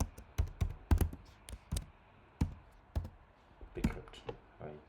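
Sharp clicks and taps of fingers typing on a computer keyboard, irregular bursts of keystrokes close up, with faint speech in the background.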